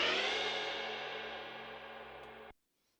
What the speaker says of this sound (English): But what I want to do is I want to change it to a speed up fade in.